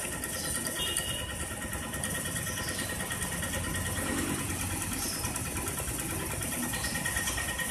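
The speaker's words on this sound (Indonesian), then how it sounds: "jadi kita pakai kickstarter" Motorcycle engine kick-started and running at a steady idle, a continuous close mechanical chatter with a faint knocking rhythm, no clear talk over it.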